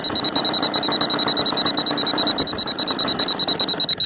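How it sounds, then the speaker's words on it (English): A steady, high-pitched electronic low-battery beep from a radio control transmitter repeats in a fast, even pattern over a rough whirring noise from a model airplane, close and fairly loud. "that beeping you hear is my transmitter. It is low on juice"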